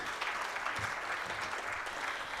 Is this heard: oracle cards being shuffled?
no